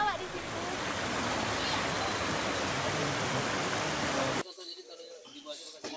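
Cold lahar flood from Mount Marapi after heavy rain at night, a loud, dense roar of rushing water that runs steadily and then cuts abruptly to quieter background sound near the end.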